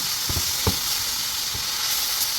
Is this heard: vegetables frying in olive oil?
yes